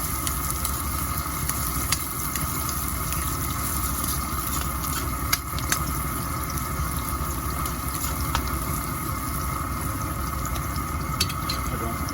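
Ground pork browning in a pan for pork giniling with pakbet and shrimp paste: a steady, even sizzle that holds at moderate loudness throughout, with no talking.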